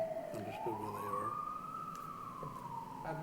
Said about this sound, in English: I'm sorry, Mr. Lockhart, with the siren, I didn't hear that last one.